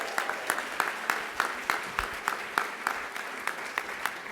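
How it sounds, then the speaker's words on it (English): Applause for state assembly members at a dinner with the Jewish Caucus during a Capitol summit, a moderate crowd clapping with distinct sharp claps in an irregular rhythm throughout, fairly close. "how about one more round of applause for our fabulous assembly members"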